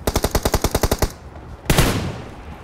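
Gunfire in the PUBG battle royale video game: a rapid burst of about a dozen loud automatic shots, a short pause, then a single heavier blast that fades out.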